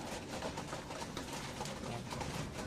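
Soft, steady cooing of moulting pigeons under a constant murmur of background noise, faint and somewhat distant, with no talking.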